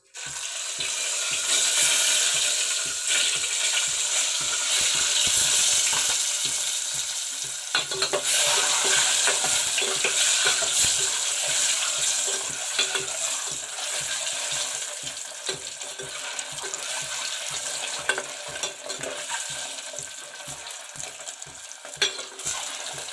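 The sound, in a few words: eggs frying in hot oil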